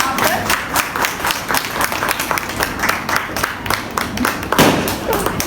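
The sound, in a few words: audience applause welcoming Dr. Aisha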